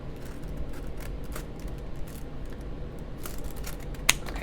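Scissors snip through a package of Pokemon cards with soft, steady cutting and rustling of the packaging, ending in one sharp click.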